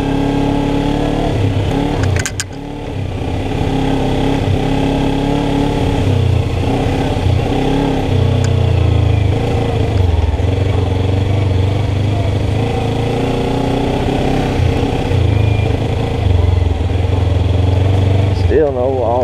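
A 2014 Kawasaki Ninja 300 set up as a dual sport rides across muddy, slippery ground on street tires, its engine droning and revving steadily up close as the wheels spin.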